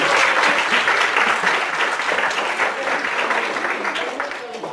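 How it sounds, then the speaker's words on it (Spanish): An audience at a philosophy-of-psychology panel discussion breaks into loud, dense applause for a speaker, the clapping strongest at the start and tapering slightly over several seconds. "Démosle un aplauso, por favor,"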